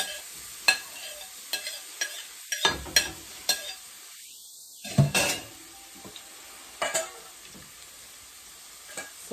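Seasoning drops into hot oil for kalu and saltfish, giving a soft background sizzle broken by sharp clinks and scrapes of a spoon against the pot at irregular intervals.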